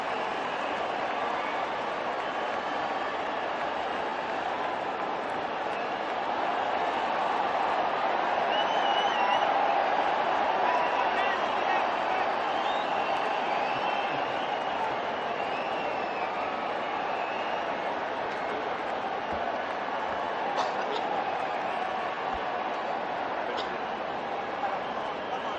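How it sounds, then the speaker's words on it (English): Sustained applause and crowd roar fill a cricket stadium during an India versus Australia run chase, a steady dense wash of clapping and cheering that holds loud and even throughout without pause. "the applause is something to behold"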